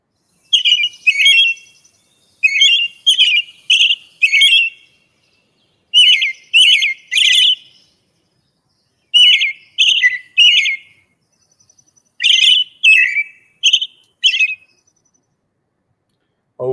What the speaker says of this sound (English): And as we're turning, I heard this bird.